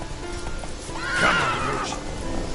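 Geralt's horse Roach in The Witcher 3 gives a clear whinny that swells in the middle over soft hoof clip-clop and low background game ambience, with no voices.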